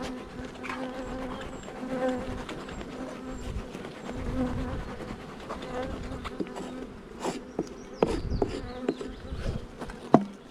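Honeybees at an open beehive colony, many buzzing close by in a continuous hum with individual bees passing near, while someone works the hive.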